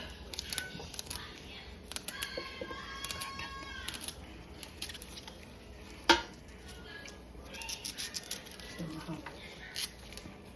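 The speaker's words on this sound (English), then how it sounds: "the next thing I'm gonna do is cut my celery. I do it right over the pot" Knife slicing celery straight over a cooking pot, with soft irregular cutting taps and small clinks under quiet kitchen background and occasional talk.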